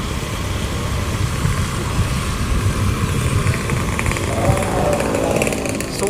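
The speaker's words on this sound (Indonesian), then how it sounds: "Suasananya benar-benar sangat ramai, penuh dengan motor berlalu lalang." Motorcycles and other engine traffic pass along a busy street in Mersing, Malaysia, a steady loud wash of revving and droning engines with no clear gaps.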